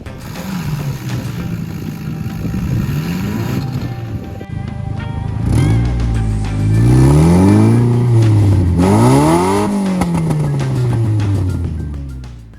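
A two-wheel drive vehicle running on soft tracks gives a loud, continuous engine roar that climbs and falls in repeated revving sweeps, growing stronger and harsher through the second half.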